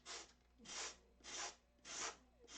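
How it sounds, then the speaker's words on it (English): Four slow, even strokes of sandpaper rasp across a foam wing rib, sanding it down flush to the buck, each rub about half a second long with short quiet gaps between, close and soft. "So just put it back on and sand it down to the buck."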